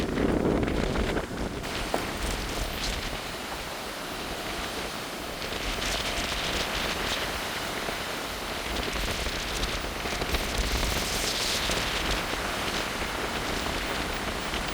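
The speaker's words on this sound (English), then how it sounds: "I hope you can hear me with all the wind" Strong wind gusts buffet a ship's deck on the Queen Mary 2, a steady loud roar of wind noise across the microphone that swells and eases throughout, with no talk heard.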